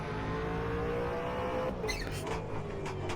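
V8 Supercars race cars drone steadily at Sandown Raceway in a racing video game, a continuous engine roar with a few sharper, higher bursts near the end and no talk.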